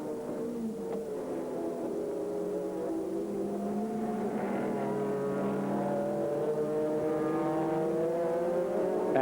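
Audi race car engine at the 2001 American Le Mans Series race, a steady loud drone of high-revving engine with rising and falling pitch as the car accelerates, continuous throughout with no talk.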